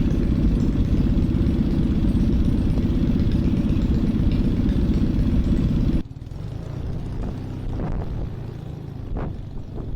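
The engine of a Minimax 1100r ultralight aircraft drones loudly and steadily at idle for six seconds, then drops to a lower, rougher rumble with some knocks nearby.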